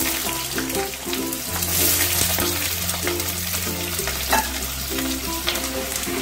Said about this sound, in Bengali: ডালনাটা তৈরি করার জন্য সর্ষের তেল দিয়ে দিয়েছি, দিয়ে আমি প্রথমে আলুগুলোকে একটু ভেজে নেবো